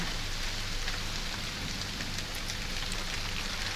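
Light rain falls steadily during cool, wet weather, a dense even hiss of drops that stays at the same level throughout, with no voices.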